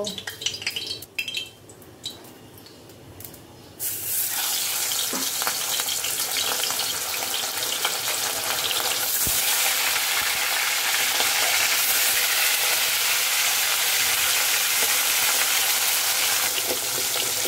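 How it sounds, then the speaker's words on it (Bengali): Fish pieces slid into hot oil: a few quiet kitchen clicks give way to a sudden loud, dense sizzle that roars on steadily and close. "গরম হয়ে গেছে, এখন আমরা মাছ দিয়ে দিব।"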